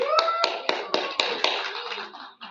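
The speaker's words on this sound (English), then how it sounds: "a round of applause for Debbie" A small group claps for a participant at a young professionals' bootcamp, roughly ten distinct close claps in a quick steady rhythm, loud and clear before fading out.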